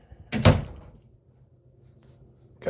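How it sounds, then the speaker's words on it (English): A single solid thud of a door being shut close by, followed by quiet room noise and a faint knock near the end. "Got to do the close the door thing."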